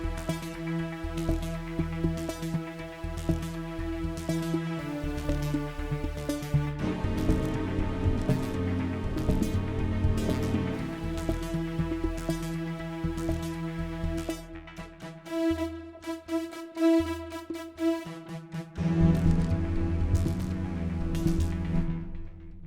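Synthophone, an electronic wind-controller saxophone, playing a layered synth harmony with moving inner parts, sustained chords with rhythmic pulses, changing sections, no voices.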